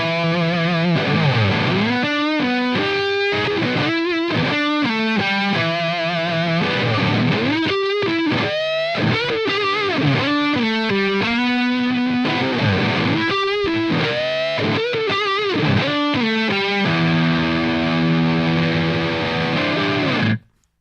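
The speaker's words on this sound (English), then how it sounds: "It's a high gain through the T-Rex Mauler, Bogner Ecstasy 3534 through the Mesa Boogie 412 cabinet." High-gain electric guitar through a T-Rex Mauler pedal, Bogner Ecstasy 3534 amp and Mesa Boogie 4x12 cabinet, loud saturated riffing with palm-muted chugs, quick runs and ringing chords, ending on a held chord cut off abruptly.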